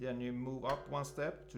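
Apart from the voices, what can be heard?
No distinct noise like a dog, phone or traffic.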